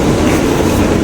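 A Mumbai local commuter train at CSMT gives a loud, close, continuous rumble of rolling wheels and carriages, with no voices over it.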